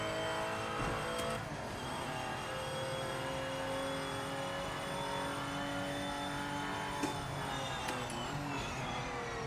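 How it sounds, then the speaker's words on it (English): A Porsche race car in the Project Motor Racing sim game drives continuously, its engine note loud and steady with rising and falling revs, occasional gear shifts and faint tire noise, with no talking. "These Porsches still feel really good to drive"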